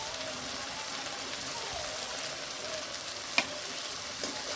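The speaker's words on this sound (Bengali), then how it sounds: "আবারও ভালো করে কষে নেব" Chopped banana blossom sautés in a pan with salt and turmeric, giving a soft steady sizzle with a sharp clink of a spoon partway through, fairly quiet and close.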